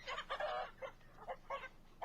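A rooster and hens on a farm give soft, repeated clucks in short bursts, fairly quiet and slightly distant against a low background hum.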